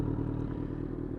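A Kawasaki Z1000 motorcycle engine revving loud and close, a dense steady roar held through the moment with no voices.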